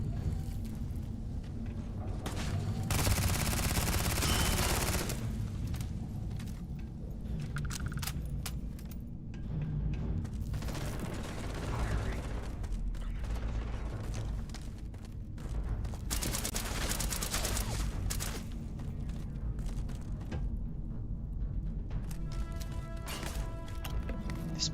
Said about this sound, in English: do I have somebody firing at me from above too?